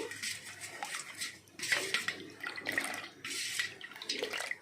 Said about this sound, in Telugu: ఈ స్పూన్తో రెండు స్పూన్ల జొన్న పిండి అట్లాగే ఒక గ్లాస్ వాటర్ తీసుకొని రెండింటిని చక్కగా ఉండలు లేకుండా ఇట్లా కలిపేసుకొని